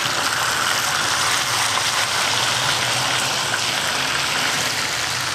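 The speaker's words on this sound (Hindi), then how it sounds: "मैंने एग नूडल्स जो हैं उसको आधा कर लिया था, और इसको हम फ्राई करेंगे।" Egg noodles, halved, being fried a little at a time in hot oil in a pan for a Singaporean rice platter, giving a steady, loud, continuous sizzle throughout with no talking.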